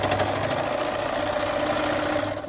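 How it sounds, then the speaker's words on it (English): Serger stitching fabric pieces for a cloth mask, a fast, steady mechanical hum with rapid rhythmic chatter, close and continuous, easing off at the end. "all you're doing is just kind of serging these together"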